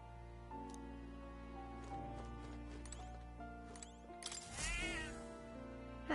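A cat meows once in the video game Metaphor: ReFantazio, a short chirpy cry rising over sustained background music, with soft footstep-like taps nearby.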